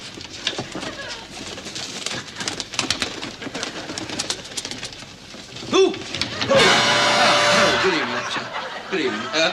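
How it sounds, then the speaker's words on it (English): Pigeons or doves coo repeatedly, close by, alongside chuckling and talking voices, ending in a louder burst of noise near the close. "I'm not stealing these birds."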